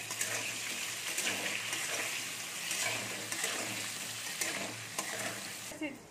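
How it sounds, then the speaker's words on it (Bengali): Potatoes seasoned with salt and turmeric sizzle steadily in a hot pan while being stirred, with frequent scraping clicks of the spoon over a continuous crackle and no talking. "আলুগুলো নেড়ে নেবো, একটু ভেজে নেবো ভালো করে।"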